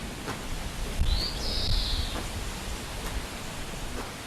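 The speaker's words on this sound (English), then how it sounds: "we're trying to work out what that bird is" A single bird call, a brief clear whistle-like note, sounds at a moderate distance against a steady rain-like hiss outdoors.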